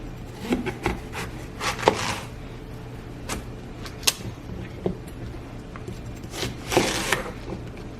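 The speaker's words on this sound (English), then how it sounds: "we're gonna go ahead and cut up the veggies, scramble the eggs, and get it all assembled" Vegetables being cut up very small for a breakfast egg casserole: irregular knife taps and scrapes on a cutting board, some quick clusters and some isolated knocks, close by against a low kitchen background.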